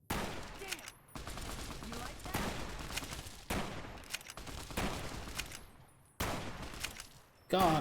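Gunfire from the video game Fallout: New Vegas, several bursts of rapid shots separated by short silences, loud and close, with some game sound between volleys.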